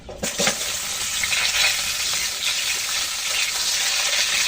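Teasel gourd and potato pieces tipped into hot mustard oil, a loud, close frying sizzle that holds steady with faint stirring and splashing underneath.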